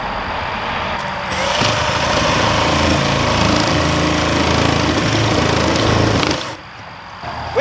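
Sawzall reciprocating saw cutting during baseboard and wall repair, a loud continuous buzzing rasp lasting about five seconds before stopping abruptly, heard alone without talk.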